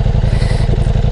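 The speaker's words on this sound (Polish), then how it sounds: "Bardzo przyjemnie silnik pracuje" A Ducati Diavel V4 motorcycle engine idles steadily up close, a low, even throbbing rumble with a faint mechanical clatter on top, no voices.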